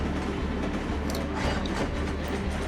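Blue train rolling along rails in the Train Crisis puzzle game, a steady low rumble with faint clickety-clack and rattling, continuous throughout at moderate level with no talk.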